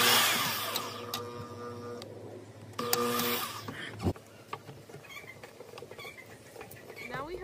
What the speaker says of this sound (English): we'll be drilling two holes through these holes